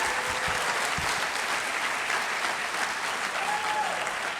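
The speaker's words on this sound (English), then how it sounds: "Sarah Asher deserves a nice round of applause for emceeing tonight" Audience applause at a high school honors convocation, a steady, dense round of clapping from a large crowd filling the whole few seconds, with faint voices mixed in.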